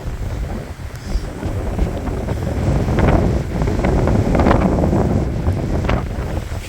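Strong, gusty wind roars and buffets the microphone as a severe thunderstorm moves in, a dense, continuous rush that swells louder midway and holds steady, with no voices.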